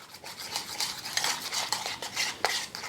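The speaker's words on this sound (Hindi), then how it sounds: "बस थोड़ा बहुत इसको हम इस तरीके से शुगर और वनीला एसेंस को हमने मिक्स किया है" Butter being mixed with sugar and vanilla essence, rhythmic scraping and stirring strokes of a utensil against a bowl, close and fairly loud, with no talking.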